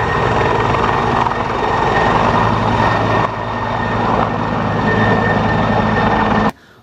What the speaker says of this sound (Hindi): ये हेलीकॉप्टर है, बहुत ही प्यारा कलर का हेलीकॉप्टर एकदम रियल जैसा।